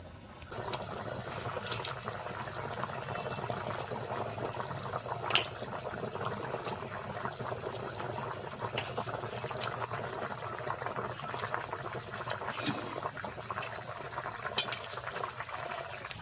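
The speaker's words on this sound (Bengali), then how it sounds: "জল দেওয়ার পরে দশ মিনিট মতো হাই হিটে জাল করে নিয়েছি দেখো টক বক করে ফুটছে" Katla fish curry with potatoes boils hard in a pan, giving a steady bubbling hiss with scattered sharp pops and clicks, close and unbroken by any voice.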